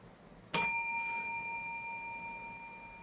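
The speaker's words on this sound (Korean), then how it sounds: "맑고 고운 종소리가 또 은은하게" A single clear bell is struck once, close and bright, and its soft shimmering tone rings on and slowly fades over several seconds with no voices.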